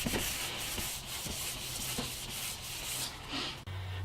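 A car headlight is hand-sanded with 500 grit paper, producing close, loud, rhythmic scratchy strokes back and forth, with a quieter pause near the end.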